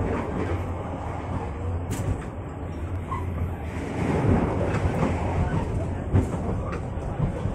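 Steady rumble and rolling rattle fill the cabin of a moving economy-class passenger train running between Bandung and Jakarta, continuous and fairly loud, with occasional clicks and knocks from the carriage.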